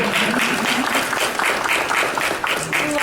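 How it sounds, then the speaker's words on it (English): An audience breaks into a loud, close round of applause, dense rhythmic clapping filling the space throughout, with faint voices mixed beneath. "Can I just give them a huge round of applause?"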